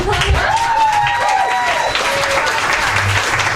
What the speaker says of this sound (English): Still clapping for you.